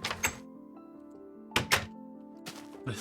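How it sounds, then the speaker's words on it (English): In Minecraft Beta 1.8, a chest opens and closes with a door-like wooden thunk, three short knocking bursts spaced apart over a steady low game hum. "I like how the chest is like the door noise"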